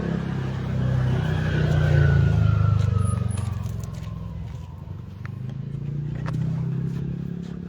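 A motorbike engine runs steadily and swells as it revs while riding near the beach in Tambobong, Pangasinan, a close, continuous rumble with wind noise and faint clicks over it.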